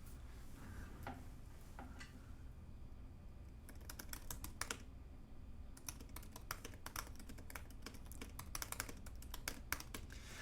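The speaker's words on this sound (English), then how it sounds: "Just going to close the door so you guys can hear me typing." Fast typing on a computer keyboard with metal-dome switches, crisp clicky keystrokes coming in irregular bursts and runs, fairly close and quiet in a room with no talking.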